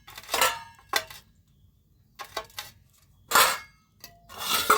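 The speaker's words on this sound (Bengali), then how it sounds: "লঙ্কা কুচিয়ে নেব, গাছের থেকে এক্ষুনি তুলে নিয়ে এসেছি বন্ধুরা" Freshly picked green chillies being chopped for a pitha recipe: a handful of short, sharp clattering knocks at an uneven pace, close and fairly loud, with quiet gaps between them and no talking.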